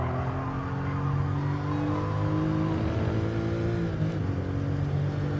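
Porsche 911 Carrera RS CS (993) engine in Gran Turismo Sport at Laguna Seca, a steady loud flat-six drone with rising and falling revs under throttle, continuous and close throughout.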